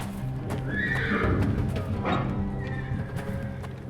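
In a stable in the game Secret Files 3, horses give loud, shrill neighs and whinnies close by, with hooves shuffling and clopping on the ground underneath.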